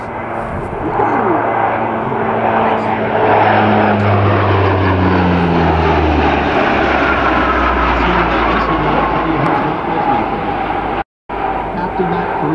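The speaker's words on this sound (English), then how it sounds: "Looks like a high-speed pass as well." A Lockheed P-3 Orion four-engine turboprop roars past in a high-speed pass at an airshow, loud and droning, with a falling Doppler pitch as it goes by and a brief dropout near the end.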